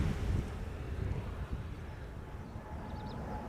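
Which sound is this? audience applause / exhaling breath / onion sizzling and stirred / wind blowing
wind blowing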